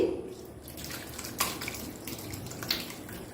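Curdled milk chhana and its whey are poured onto a cotton cloth laid over a strainer above a bowl, giving a continuous close splashing gush with a few brighter spatters, alone without speech.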